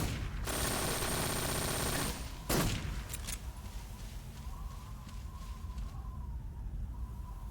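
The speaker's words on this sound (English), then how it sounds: "Gonna shoot her in the head." A loud rifle shot rings out in the stealth game Metal Gear Solid 3 amid dense background gunfire and game effects, followed by a few fainter shots and a wavering siren-like tone.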